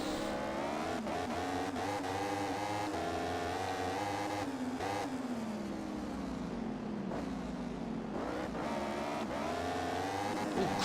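Motorcycle engine in the MotoGP 15 racing game, a continuous high buzzing whine that climbs and drops in pitch as the bike accelerates and brakes through corners.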